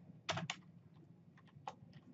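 Typing on a computer keyboard while entering text in the Vim editor: a couple of sharp close key clicks, then a few softer scattered keystrokes over a low background hum.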